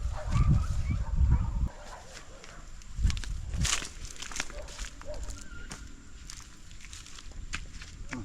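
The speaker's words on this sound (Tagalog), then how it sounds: "Nag-away ng aso." Dogs scuffle and bark in an outdoor vegetable-picking setting, with loud rough bursts at the start and a few more snarls later, while other outdoor noise and low movement sounds continue around them.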